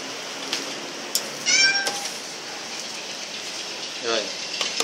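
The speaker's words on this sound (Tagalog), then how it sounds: "Ay, naniniyaw na yung pusa." A cat meows a few times, faint and brief, over a steady hiss like rain and background noise in a kitchen where bread dough is being made.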